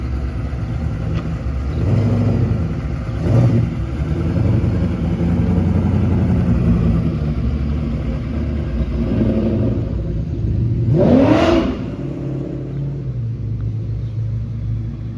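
A 1988 Chevrolet Caprice engine hums along at a steady, moderate rumble while cruising, with a brief louder swell of revving partway through before settling back.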